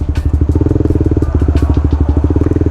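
Modified Honda CBR150R sport bike pulling away, its engine loud and close with a rapid, pulsing exhaust beat and faint clattering, with no voices.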